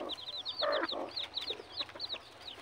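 Jungle fowl chickens chirp and cluck in quick high calls, with a burst of louder squawking near the middle, against a steady outdoor background.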